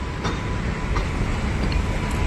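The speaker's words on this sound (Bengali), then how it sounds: "মালগাড়িটা দেখুন একবার" A freight train pulling wagons rolls steadily through Dum Dum Junction, a loud, dense rumble with faint wheel clicks, continuous and close, no voices.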